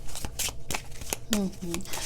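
Reading cards being shuffled by hand in a quick series of crisp riffling bursts, close up, while someone talks over them.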